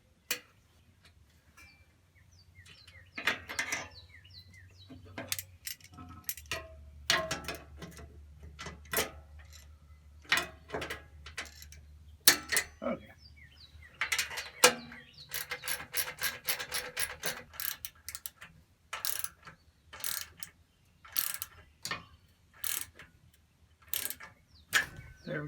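A ratchet tightening vibration-proof nuts on an Earthquake tiller during a belt change, with bursts of quick clicking strokes separated by pauses, close and fairly clear against a low hum.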